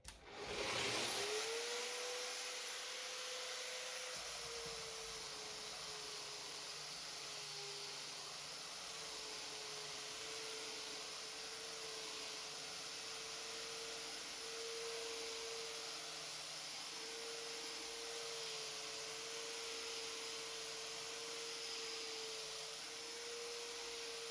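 An Inokraft electric drywall sander runs with a steady high-pitched whine and a broad whooshing hiss of airflow, continuous and unchanging for over twenty seconds, with no voices.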